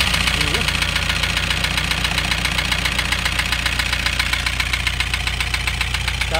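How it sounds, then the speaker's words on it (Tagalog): Engine knock from the diesel 2KD in a Toyota HiAce, overhauled five months earlier, ticking steadily and loudly at idle with a dense, even rhythm and no break. "pero ganito na ang tunog ng kanyang makina."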